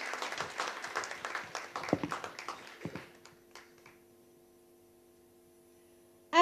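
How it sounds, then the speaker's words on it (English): Applause from an audience at a school event: dense clapping for about three seconds that thins into scattered claps and then fades to a quiet hum, with a brief sharp sound at the very end. "A huge round of applause to Mr."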